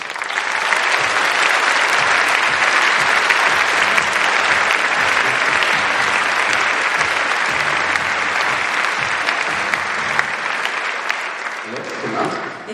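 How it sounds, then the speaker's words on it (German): Thunderous applause fills a hall at a science event at TU Berlin as a speaker is welcomed, a loud, dense, sustained wash of clapping from a large crowd that tapers slightly at the end. "Begrüßt mit einem donnernden Applaus Silke Schwarz."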